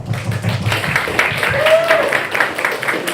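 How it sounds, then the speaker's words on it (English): An audience at a live debate gives a round of applause, a steady wash of many hands clapping at close range, with a voice speaking over part of it. "give all our frontliners a massive round of applause for putting themselves out there"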